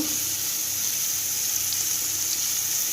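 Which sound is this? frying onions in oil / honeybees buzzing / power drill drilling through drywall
frying onions in oil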